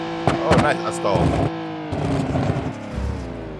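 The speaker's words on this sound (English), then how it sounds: "Your car is too loud." A loud car engine in the BeamNG.Drive driving game rumbles and revs in short bursts while people talk over it.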